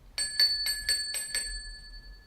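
Notification bell sound effect with five bright, quick metallic rings in a steady rhythm, each leaving a short ringing tail that fades out, clear and alone.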